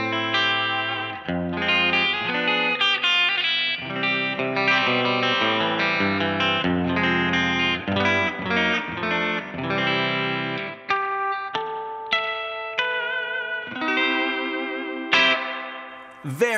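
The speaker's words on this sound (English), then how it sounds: "we're going to get like a good old surfy tone spring reverb, and we're going to use the sine wave tremolo" Electric guitar played through a Keeley Hydra pedal set to surfy spring reverb with sine-wave tremolo, a pulsing, wobbling chordal riff with splashy reverb tails, played alone for about sixteen seconds.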